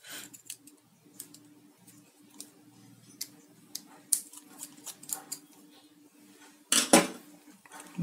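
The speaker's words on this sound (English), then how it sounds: "Now remove the screw." Screw being removed from a CCTV camera during installation, with faint scattered metallic ticks and small scraping clicks, then a louder clatter of handling near the end.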